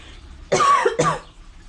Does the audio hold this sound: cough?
yes